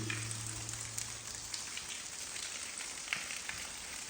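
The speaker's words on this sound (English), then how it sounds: "see a lot of water" Steady rushing and spattering of water dripping and trickling inside a wet railway tunnel at Newchurch, continuous with a few sharper drops standing out.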